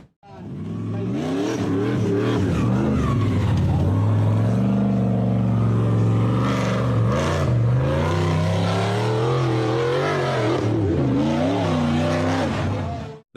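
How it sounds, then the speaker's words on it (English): A gray off-road buggy engine strains up a steep, rocky dirt slope, loud and close, with a rough harmonic growl whose pitch rises and dips as the revs surge and fall, continuous for most of the clip. "The gray buggy tried to accelerate up a steep, rocky dirt slope"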